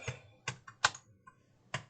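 A computer keyboard typed on at close range, with five distinct, crisp key clicks spaced unevenly over two seconds.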